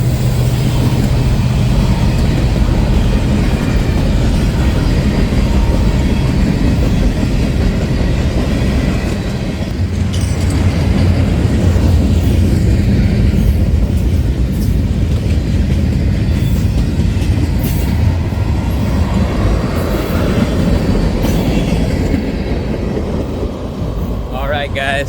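A long CPKC freight train with BNSF SD70ACE mid-train power rumbles past up close, steady and loud, with rhythmic clatter of wheels over rail joints throughout.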